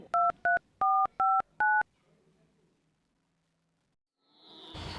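Telephone keypad dialing a number: five crisp, evenly paced DTMF tones in quick succession, then near silence before a rising rustle of background noise.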